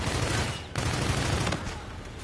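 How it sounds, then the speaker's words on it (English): Sniper gunfire in a first-person shooter game, a dense burst of overlapping shots with a sharp crack near the middle, loud and close with no talking. "He tried to snipe me."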